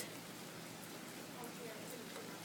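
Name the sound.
rain falling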